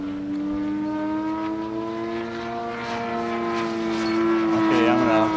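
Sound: 200 carburetor engine running at half throttle

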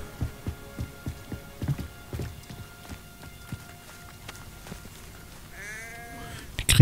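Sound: sheep bleating in video game Hogwarts Legacy

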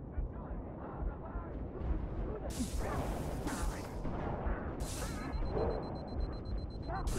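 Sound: gunshots in a video game

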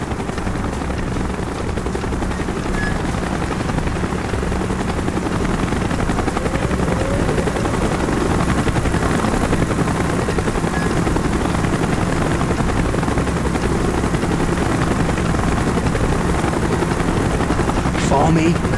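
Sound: helicopter approaching in Call of Duty Black Ops video game

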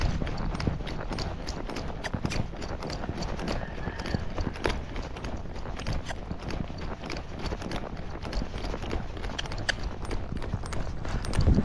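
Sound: Rocky Mountain horse hooves in faster gait

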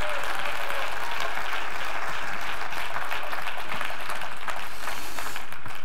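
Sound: church congregation clapping hands

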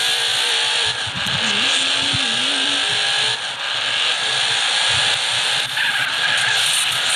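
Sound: car driving in video game GTA San Andreas

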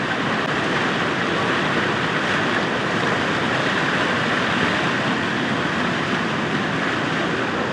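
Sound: floodwater rushing in overflowing river during heavy rain

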